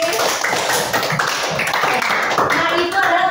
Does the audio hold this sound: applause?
yes